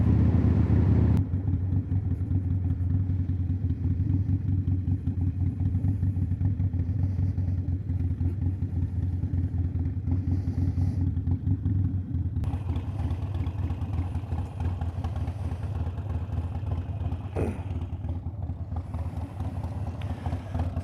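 A motorcycle engine runs steadily at close range while riding in cold weather, a constant low mechanical drone with clatter that shifts in tone partway through and carries on without pause.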